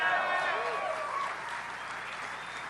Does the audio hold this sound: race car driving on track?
no